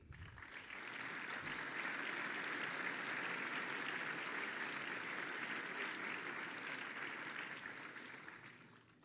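Sustained, dense applause from a large audience at a university master's graduation ceremony, swelling quickly and holding steady before tapering off at the end, with no talk over it.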